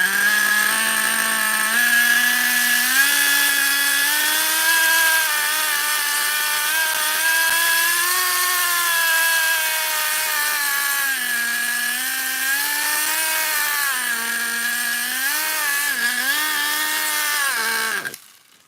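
A small OFNA LD3 nitro RC car engine runs continuously at a loud, high-pitched buzz, its revs wavering up and down before cutting off abruptly near the end.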